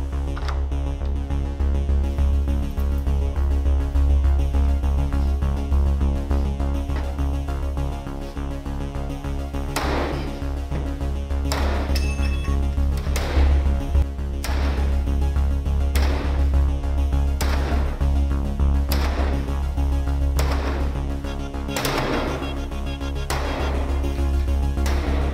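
Repeated heavy sledgehammer blows against a classroom door secured with a Nightlock lockdown device, landing as sharp separate impacts at irregular intervals over a steady low hum, growing more frequent toward the end.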